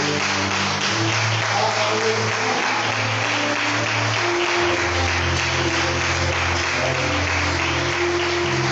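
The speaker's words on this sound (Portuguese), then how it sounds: "Você pode aplaudir bem forte o Senhor Jesus." A church congregation applauds loudly and steadily throughout a Protestant service, a dense wash of clapping with music tones sustained underneath.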